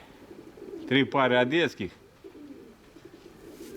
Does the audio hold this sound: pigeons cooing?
yes